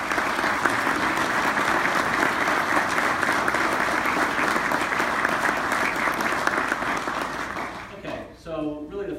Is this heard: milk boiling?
no